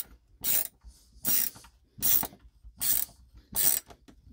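WorkPro ratcheting screwdriver driving a screw, giving five evenly spaced bursts of quick clicking ratchet pawl, close and crisp with quiet pauses between strokes.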